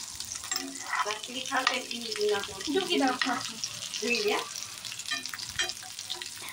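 Homemade chicken sausages fry in a pan with a steady close sizzle and occasional stirring clatter, with brief voice-like sounds that may be talk partly under it.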